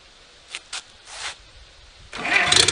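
A small engine started with its choke held closed: a few short, soft pulls, a pause, then the motor catches and runs loudly.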